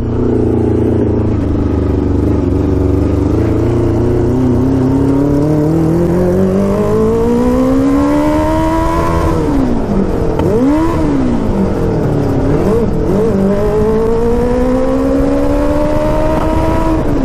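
A 650cc shifter kart engine revs loud and close, its tone climbing steadily, dipping and wavering through a couple of blips, then rising again over a continuous roar; no talking.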